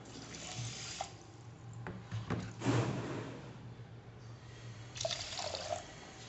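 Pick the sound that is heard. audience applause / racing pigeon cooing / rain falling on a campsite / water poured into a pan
water poured into a pan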